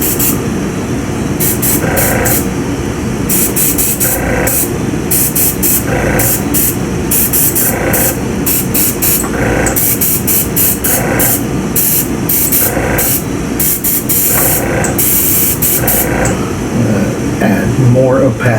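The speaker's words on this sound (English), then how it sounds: "Not by the amount that you spray, but the number of layers that you spray." An aerosol spray can mists paint onto a Tiamat dragon miniature in short repeated hissing bursts, close and loud, with a person talking over and between the sprays.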